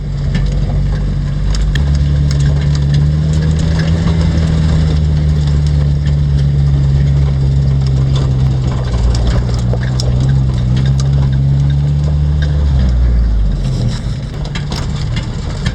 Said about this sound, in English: We're riding around out in the Jeep in Death Valley, looking for some action.